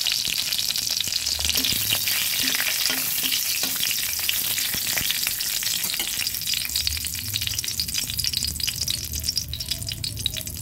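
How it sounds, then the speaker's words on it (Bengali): Bay leaf and a dried red chilli sizzle in hot oil in a wok, a steady loud crackling frying hiss with occasional stirring rattles and taps throughout, no voices. "ওই কড়াইতেই আরেকটু তেল দিয়ে দেব তেজপাতা আর একটা শুকনো লঙ্কা।"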